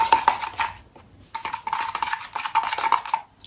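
Wood filler being mixed in a container, close repeated scraping and clicking strokes in two or three bursts with short pauses between, no voices.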